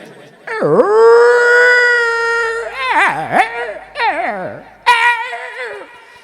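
A human voice imitates a female dog, making drawn-out whining howls and whimpering yelps, loud and close, in a few separate bursts that rise and fall in pitch.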